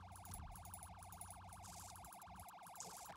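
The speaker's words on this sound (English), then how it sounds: "Why do you have your sirens on and where are you going?" A police car siren in the Gaminglight PoliceRP video game wails with a steady, rapid up-and-down oscillation, loud and continuous throughout, alone over low engine rumble.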